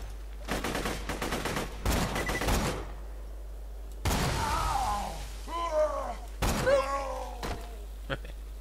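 Borderlands 2 gunfire: rapid bursts of automatic shots in quick rhythmic volleys, then heavier single blasts and impacts with groaning enemy cries, loud and close, with a voice talking in between.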